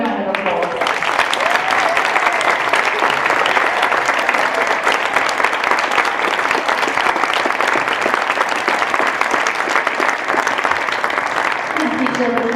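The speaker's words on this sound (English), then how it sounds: "Let's give them one more big round of applause." Audience applause fills a fourth grade devotional at a school gathering, broad and steady throughout, with a brief voice near the start and end.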